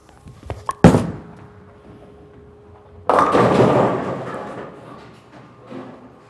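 A bowling ball is released with a sharp thud, then a rolling rumble builds and fades down the lane before a faint late clatter, with no talking.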